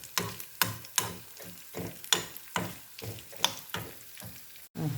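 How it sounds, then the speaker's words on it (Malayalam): Raisins frying in a pan while making wheat milk payasam, a soft sizzle broken by regular clinking and scraping strokes of a stirring spoon, steady and close with no voices. "ഇനി എല്ലാം കൂടെ ഒന്ന് വറുത്ത് വരക്കാം"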